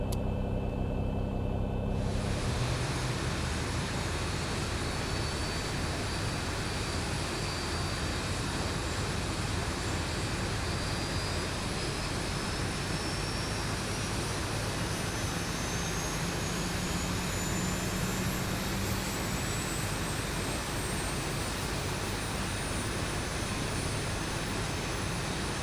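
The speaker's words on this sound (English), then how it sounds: "Okay, and now we'll go with engine number 1." Aircraft engine number one spooling up in the X-Plane flight simulator, a broad roar that swells within two seconds and then holds as a steady, loud jet rumble with a slowly rising whine and no talking.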